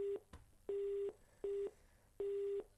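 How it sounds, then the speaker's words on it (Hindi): Telephone busy tone after a call disconnects on a phone-in line, four steady beeps in an even on-off rhythm, clear and fairly loud with no talking. "लग रहा है कॉल कट गया"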